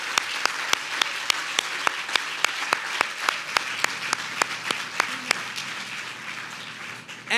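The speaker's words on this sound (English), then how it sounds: "I'd like to thank him and give him a round of applause" An audience at a leadership awards ceremony breaks into steady applause, with sharp individual claps standing out over a dense wash of clapping that fades toward the end.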